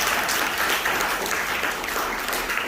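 A seated audience at a motivational talk claps steadily for a woman, a dense, even burst of applause filling the room throughout.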